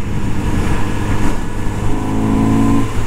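A motorcycle engine revs and pulls steadily while riding on a Swedish road, a continuous near, loud drone with rising pitch toward the end and no speech.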